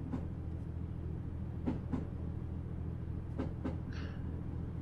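A British electric train in a train simulator game, running from Willesden depot toward Gospel Oak, hums and rumbles steadily at low volume, with a few soft clunks and jolts from the carriages; no speech.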